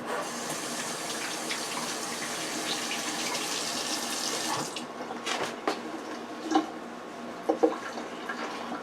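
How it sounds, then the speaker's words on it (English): Hands washed under a running kitchen tap while cooking ground beef, with a steady rushing stream of water that gives way to splashing and a few drips and clunks near the sink. "let me just wash my hand."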